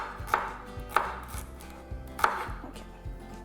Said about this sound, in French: je suis en train de vraiment hacher mon céleri.